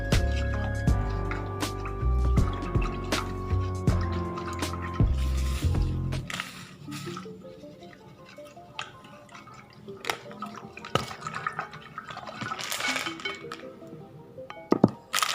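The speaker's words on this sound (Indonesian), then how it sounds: "Tambahkan secara perlahan hingga telurnya mengapung dan sambil diaduk." Salt being stirred into a container of water to float an egg for rice seed selection, with repeated clinking and scraping of a spoon against the vessel and soft drips.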